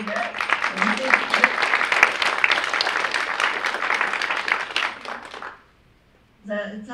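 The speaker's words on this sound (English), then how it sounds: "let's do a big applause there" A crowd at a Dolores Huerta event in the Sangre de Cristo National Heritage Area claps in a loud, dense, steady burst for about five seconds, then stops abruptly. A voice briefly speaks at the very end.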